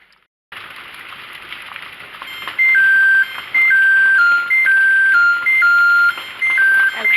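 A kitchen timer goes off while blueberry syrup is being canned, sounding a string of loud electronic beeps in short repeated bursts over a soft background hiss.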